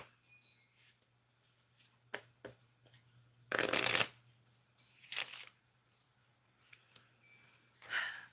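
Tarot cards are handled and counted out on a table, with soft clicks and flicks and a couple of brief shuffling riffles, close and quiet.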